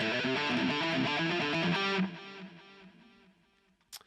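An electric guitar plays a basic ascending alternate-picking exercise, a quick even run of picked notes for two seconds before ringing out and fading, then a brief final pluck.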